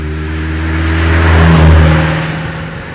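A 1963 Alfa Romeo Giulia 1600 Spider, a 92-horsepower four-cylinder Italian roadster, accelerates with a steady engine drone that rises and swells, peaking midway before easing off slightly, heard up close with no talking.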